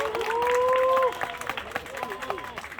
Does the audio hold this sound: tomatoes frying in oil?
no